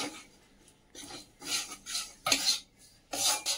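A spoon stirs flour into melted butter in a pan, giving soft scraping strokes in an uneven rhythm with brief pauses between them, close and fairly quiet, with no voices.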